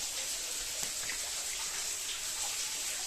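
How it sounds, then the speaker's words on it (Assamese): Water drips and trickles inside a cave in Cherrapunji, Meghalaya, a steady faint splashing hiss with scattered small drops, heard alone without voices. "পানী পৰি আছে পানীৰ শব্দ শুনক"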